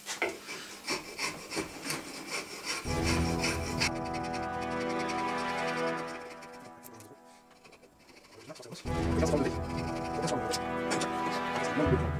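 Varnish being scraped off the wooden handle of a forged splitting maul, in quick rhythmic rasping strokes that settle into a steadier, continuous scraping, close and moderately loud.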